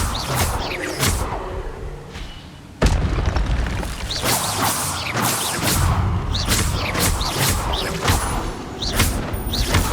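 Spell impacts from Expelliarmus and similar casts in Hogwarts Legacy against zombie brutes: a dense run of loud booming bursts and thuds, with a heavy blast near three seconds and sharp cracks continuing throughout.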